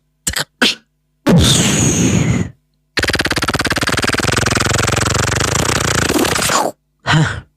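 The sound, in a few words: beatboxer imitating a gun sound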